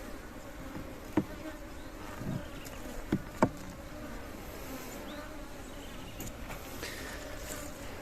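Honeybees around an opened homemade horizontal Langstroth beehive outdoors, a faint steady buzzing hum with a few brief louder passes as single bees fly close.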